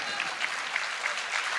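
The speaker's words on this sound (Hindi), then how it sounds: "एक बार अपने लिए भरपूर तालियां बजाइए" An audience at a mushaira poetry gathering in Delhi breaks into a brief, dense burst of applause, steady clapping from a large crowd.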